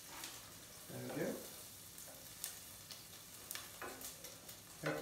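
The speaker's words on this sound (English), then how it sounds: "we're just trying to stir that round slightly for me" Chorizo, onions and peppers frying in oil with paprika for a chickpea stew, a spoon stirring through the pan in a few scraping bursts over a steady low sizzle, close up, with no one speaking.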